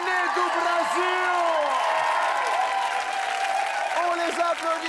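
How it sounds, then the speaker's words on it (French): Studio audience on a French TV game show applauding a troupe of dancers, a steady wash of clapping and cheering that fills the whole stretch, with a host's voice and lingering music over it. "On les applaudit fort ainsi que le chorégraphe Zaza."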